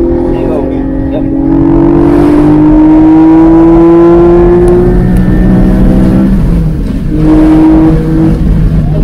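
A 2022 Porsche 718 Boxster Spyder engine revs up hard in third gear, a loud rising tone that climbs steadily, dips at a shift and climbs again, close and dominant with a voice talking over it.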